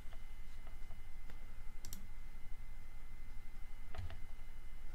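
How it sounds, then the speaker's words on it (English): Computer mouse clicks on a Save button in a Google Analytics dashboard, a few faint, sharp clicks over a steady low background hum, with no talking. "And then click on Save."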